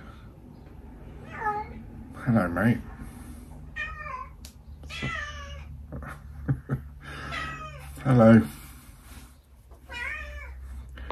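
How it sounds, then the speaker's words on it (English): A cat meows several times at close range, short rising calls with gaps between them, while someone speaks softly in a greeting. "There's the cat. You can tell by the noise."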